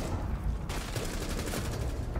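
Rapid gunfire in the tactical shooter Rainbow Six Siege, a dense burst of shots filling the whole stretch at moderate level with no talk over it.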